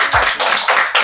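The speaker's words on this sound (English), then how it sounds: "Claps for them." Applause for spell bee winners at a school event, a crowd of children and adults clapping steadily in a loud, dense burst that swells and fades in waves.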